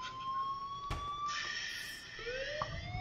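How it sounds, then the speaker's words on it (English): Fire alarm sounding in the Life is Strange video game: a steady electronic alarm tone with shifting pitches, heard alone at moderate volume with a few brief thumps. "Fire alarm."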